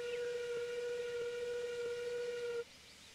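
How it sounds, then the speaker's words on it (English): Steam locomotive whistle in a freeware train simulator game, a single steady tonal blast held for about two and a half seconds over a faint background hum, then cut off. "So let's test the whistle."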